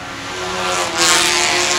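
Vintage production race cars under 1.5 litres pass through turn one at a racing circuit with a steady, rising engine roar that swells near the middle as a car goes by, over continuous background engine noise.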